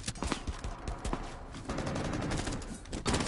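Gatling gun fire in the video game Rainbow Six Siege, a dense, loud barrage of rapid shots that continues without pause for the whole moment.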